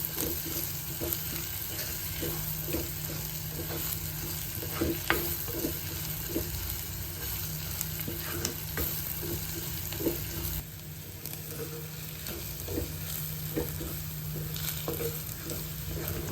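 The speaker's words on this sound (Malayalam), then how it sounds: "എല്ലാം ഒരു ബ്രൗൺ കളർ ആകുന്നവരെ ഇളക്കി കൊടുക്കണം കേട്ടോ." Crushed ginger and garlic fry in a pan for a homestyle chicken curry, a constant low sizzle with soft, irregular stirring scrapes throughout.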